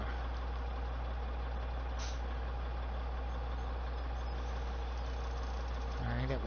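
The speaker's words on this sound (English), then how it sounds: "We'll start up the tractor," A tractor engine idles in Farming Simulator 17, a steady low drone that holds constant throughout, with a brief higher note near the end.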